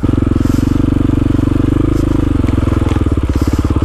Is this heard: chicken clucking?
no